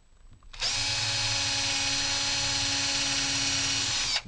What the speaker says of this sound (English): get a drill with a 2mm nail in it, or 2mm drill bit for your flash. Drill some holes.